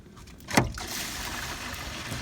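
Sewage from an RV black tank gushes out while draining, a steady rushing water flow following a brief knock at the start, moderately loud and close with no talking.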